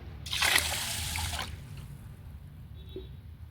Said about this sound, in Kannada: ಇದರಲ್ಲಿ ನಾನು ಇವಾಗ ಅಕ್ಕಿನ ನೆನೆಯಲಿಕ್ಕೆ ಹಾಕ್ತಾಯಿದ್ದೀನಿ